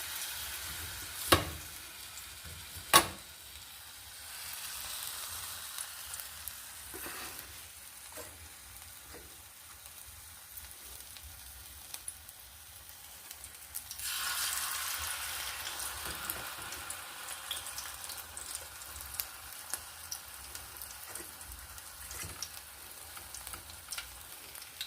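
Batter-dipped banana flower fritters frying in hot oil in a village kitchen, a soft steady crackling sizzle with a couple of sharp knocks early on and a surge of bubbling midway.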